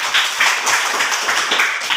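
Classroom applause from a group of students, quick dense clapping heard close and fairly loud for a couple of seconds, with a slight swell and dip in the rhythm.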